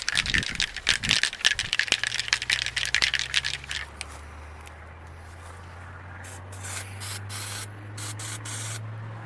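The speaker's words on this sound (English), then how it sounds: "I'll test spray before I start shooting." Several hard rattles come first, then an aerosol can of undercoating hisses steadily for a few seconds in a test spray on a 1984 Nissan 4x4, followed by a few short spray bursts.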